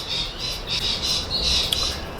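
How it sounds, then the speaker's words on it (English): Numerous birds squawk and chirp outdoors in a steady, overlapping chorus of harsh calls, loud and close with no speech. "As you can hear, there's a lot of birds around and it's quite annoying."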